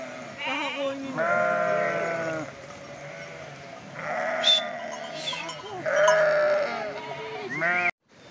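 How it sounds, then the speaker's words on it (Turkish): Several sheep bleat repeatedly at close range, their quavering calls overlapping and coming in uneven bursts. "Zaten sabah koyun meledi."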